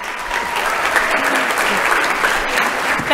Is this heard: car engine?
no